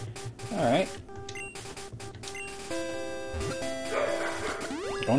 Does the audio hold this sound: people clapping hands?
no